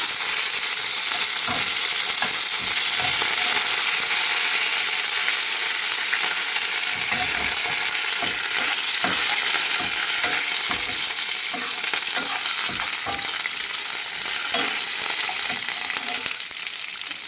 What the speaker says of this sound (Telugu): క్యాబేజీ కొబ్బరి కూరకి శనగపప్పు మినప్పప్పు జీలకర్ర పోపు వేయించాలండి ముందు కొంచెం కరివేపాకు కూడా వేసుకోవాలి